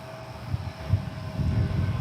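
An airplane at DFW airport, heard from the south end of the field during north flow operations, produces a steady low engine rumble that swells and fades slightly throughout, with no talking.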